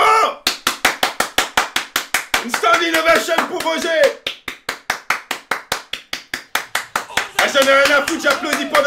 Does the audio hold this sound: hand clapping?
yes